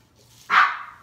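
A single sharp, close bark from a dog indoors, sudden and loud, then fading quickly into quiet.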